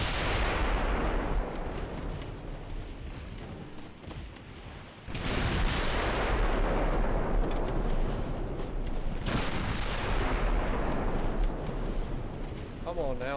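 Warship main guns firing in the naval strategy game Ultimate Admiral Dreadnoughts, heavy booming salvos rolling out in long decaying waves, a fresh blast landing around the five and nine second marks, with someone talking over the gunfire.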